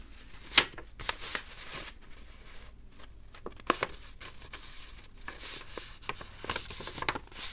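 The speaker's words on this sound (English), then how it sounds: "now we're gonna fold down" Crisp paper being folded for origami close to the microphone, with sharp crinkles and creases coming in irregular bursts between quiet pauses and no talking.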